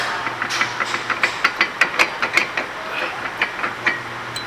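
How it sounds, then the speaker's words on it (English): A flathead screwdriver pushes back the brake caliper slides on a first-generation Mazda 3 during a front brake pad and rotor job, giving a close run of sharp, irregular metallic clicks and ratcheting taps. "Now take your little flathead screwdriver and just push those slides all the way back."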